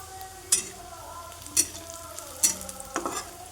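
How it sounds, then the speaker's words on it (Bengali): Chopped onion and chilli frying in hot oil with whole cumin seeds, a soft sizzle under a few sharp scraping stirs of a spatula against the pan, with no talking. "প্রথমে তেল গরম, তারপরে গোটা জিরে 5 ফোড়ন ফেলে দিলাম, তারপরে পেঁয়াজ কুচি, লঙ্কা কুচি।"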